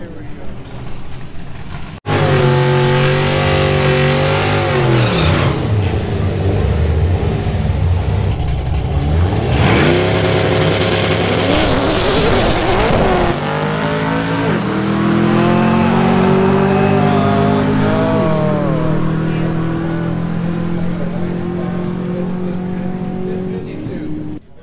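A Mustang drag car at Houston Raceway launches hard with its wheels hopping, the engine roaring loud and close, revving and sweeping upward in pitch through the pull, while people talk nearby.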